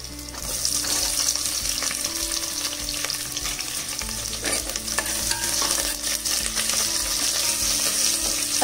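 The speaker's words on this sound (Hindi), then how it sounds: "प्याज जब तक हल्का ब्राउन होता है तब तक भूनना।" Onions fry in a pan for mutton curry with a loud, constant sizzle and repeated scraping of a stirring spoon.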